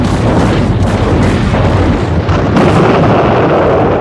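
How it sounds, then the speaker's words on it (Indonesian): Loud, continuous booming of artillery cannons firing on an Ottoman defensive hill in a World War I battle scene, with dense, overlapping blasts and no speech. "regu artileri menembakkan meriam ke bukit pertahanan Ottoman"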